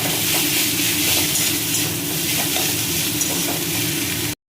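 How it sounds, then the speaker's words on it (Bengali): Mustard greens and eggplant pieces fry in a pan with a dense, close sizzle, broken by soft stirring and scraping strokes, before a sudden cut to silence near the end. "বেগুনটাকে লাল লাল করে ভেজে সর্ষে শাক করছি"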